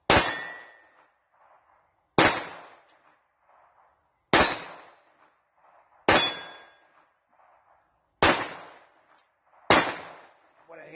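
Taurus TX22 pistol rounds striking steel head targets: six sharp metallic clangs, each with a short ringing decay, spaced about two seconds apart, clear and fairly close.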